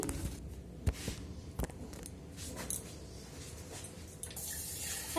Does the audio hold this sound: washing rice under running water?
yes